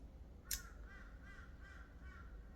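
Crows cawing outdoors, a sharp nearby call followed by four evenly spaced fainter caws.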